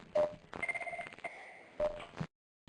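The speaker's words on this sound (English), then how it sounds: "Okay, it's ringing again." An IP phone in a Cisco CUCM Mobile Connect setup rings on an incoming call, giving a couple of short electronic tone bursts separated by pauses, moderately quiet and heard alone.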